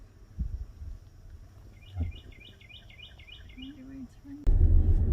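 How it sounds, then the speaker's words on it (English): Faint repeated chirps in a quick rising pattern as vultures gather at Fakahatchee Strand State Preserve, with a few low thumps and rustles, ending in a burst of louder noise. "Look at all these birds."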